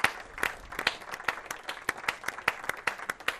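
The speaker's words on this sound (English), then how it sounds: "And as you can hear, lots of applause for Will Watts, and fair play to the High Wy" Scattered applause from players and spectators at an amateur cricket match as a batsman walks off, distinct sharp claps in an uneven rhythm, fairly distant and sparse.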